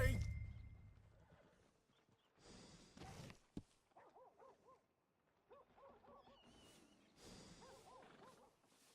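A horse in Red Dead Redemption 2 neighs and whinnies in repeated warbling bursts, with snorts and scattered clattering, fairly close and moderately loud.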